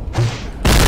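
Explosion in a cartoonish game, a brief muffled rumble followed by a loud broadband blast that cuts in sharply and holds to the end.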